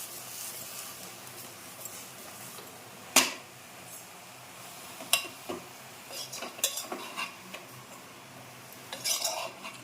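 Utensil stirring in a kadai as brinjal and dried prawn curry is mixed with oil: scattered scrapes and clinks of a spoon against the pan, with one sharper knock, moderately close and fairly quiet, no talk.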